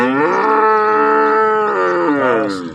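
A cow of the Aria breed bellows in a village barn in Tharad, Banaskantha, a long, loud, close moo with a rich tonal drone that rises, holds and trails off, heard clearly on its own.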